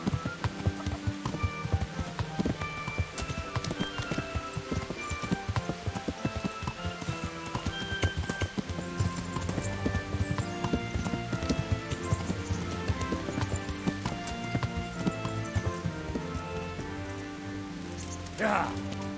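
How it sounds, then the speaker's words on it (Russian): A horse in Kingdom Come: Deliverance clip-clops along steadily under a continuous bed of game music and ambience, hoofbeats moderate and regular. "Конь."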